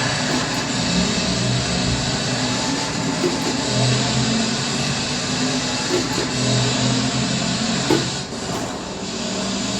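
Car engine in Forza Horizon 4 played with a Logitech G29 wheel and paddle shifters, droning steadily at mid pitch with revs rising and dipping through gear changes, continuous and fairly loud with no talking.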